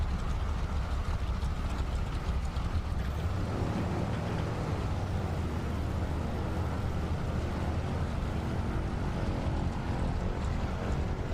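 A propeller aircraft in Microsoft Flight Simulator comes in to land during an eSTOL short-landing competition, its engine drone steady and loud throughout with no talk over it.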